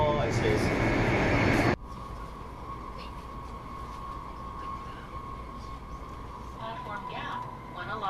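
Interior cabin of a Taiwanese high-speed bullet train in motion, a steady broadband rumble and rolling hum with a faint tonal whine, loud at first and then settling to a softer, even drone, with occasional faint background voices.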